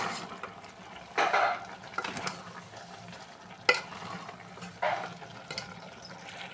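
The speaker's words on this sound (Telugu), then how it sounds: "మెంతికూర మంచిగా ఫ్రై అవ్వాలి." Fenugreek leaves and coriander fry in a pan for chicken curry, with a soft steady sizzle broken by several sharp scrapes and clinks of a spoon stirring against the pan.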